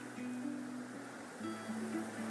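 Ocean waves wash in a steady broad surf hiss in the fantasy role-playing video game Divinity: Original Sin II, with soft sustained musical tones drifting over the moderate, continuous ambience.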